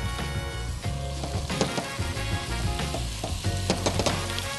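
Cabbage pieces for a chickpea curry fry in a hot pan with a steady, loud sizzle and crackle, with a few stirring clinks, and no talking.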